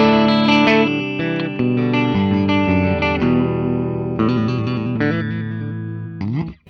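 A Gibson Les Paul electric guitar from the 2022 Mod Collection, played on the middle pickup position, rings out chimey, sustained chords and single notes, loud and close. A light effects wash adds shimmer, and the playing stops abruptly at the end.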